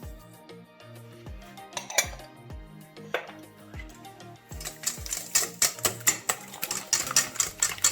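Eggs whisked with sugar in a bowl for a chocolate fondant batter, the whisk clinking against the bowl in a steady rhythm that turns faster and louder partway through, with background music running underneath.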